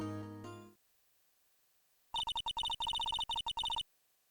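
Electronic telephone ring in the Phoenix Wright: Ace Attorney video game, a rapid warbling chirp repeated in short bursts after a brief musical sting, then silence.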